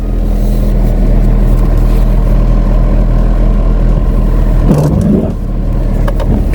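A Chevy Sonic with a 1.8 Ecotec engine runs loud and close at a steady, even idle, then briefly dips and picks back up near the end.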